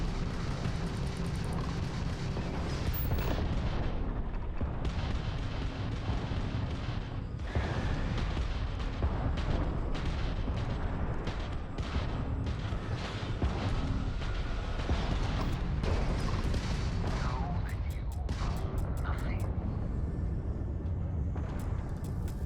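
Ship weapons firing during space combat in Starfield, a dense, loud barrage of booming and crackling shots with rapid bursts of fire over a roaring engine bed.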